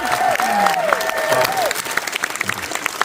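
Crowd applause at a series premiere event, a close, full burst of clapping with some cheering and a whistling tone early on, then tapering off.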